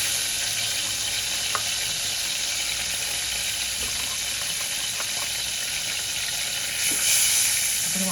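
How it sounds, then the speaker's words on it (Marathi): Ground masala paste sizzling steadily in hot oil in a pan while being sautéed for a Maharashtrian prawn curry, a continuous close crackling hiss with a few faint stirring clinks and a slight rise near the end. "आपण वाटण छान परतून घेऊया."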